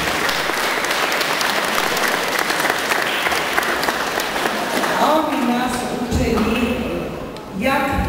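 A school event crowd claps steadily and loudly to welcome guests. Near the end, a voice rises over the fading applause.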